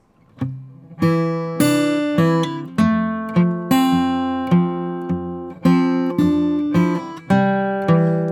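A slow melody of single fingerpicked acoustic guitar notes in a blues style, each ringing and decaying before the next, evenly spaced and played cleanly without accompaniment.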